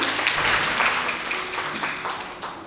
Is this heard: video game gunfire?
no